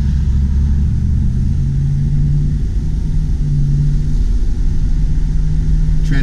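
A 1976 Chrysler Cordoba pulls out into rush-hour traffic, its engine droning steadily and building gently under acceleration, heard from inside the car with a constant low rumble throughout.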